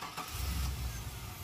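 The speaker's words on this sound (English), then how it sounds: "you can start the car" Car engine cranking and catching during a fuel pump and fuel pressure regulator test, a short loud burst settling into a steady low idle rumble.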